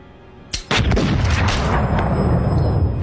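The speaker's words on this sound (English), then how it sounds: "He keeps firing into him." Loud gunfire in a scary reaction compilation: one sharp shot, then a dense, continuous burst of repeated shots that fills the rest of the clip without pause.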